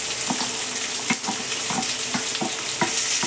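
Peanuts and diced potatoes sizzle and crackle in a hot oiled pan while a spoon stirs them, with steady frying hiss and periodic scraping strokes close by, no talking.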